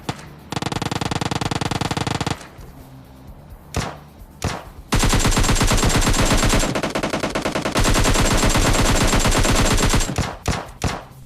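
Loud, rapid bursts of automatic gunfire in the mobile battle-royale game PUBG Mobile Lite, with several sustained volleys separated by short pauses and a few single shots between them. No voices.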